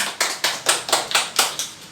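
A small group claps briskly in a room, roughly eight distinct claps in a steady rhythm, close and clear with no talking.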